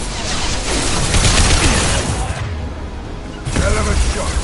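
Gunfire in the Mass Effect video game comes as dense bursts of shots and impacts over constant battle noise, loud and near, with a brief lull in the middle before firing picks up again.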